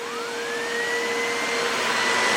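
A Bissell PowerForce Compact Turbo vacuum cleaner with a turbo brush runs steadily and loudly up close, its motor whine rising in pitch as it spins up and then holding a constant high hum.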